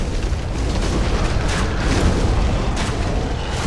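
A boar enemy in the video game Dark Souls bursts into flames, a loud, steady roaring whoosh of fire that fills the whole moment without break.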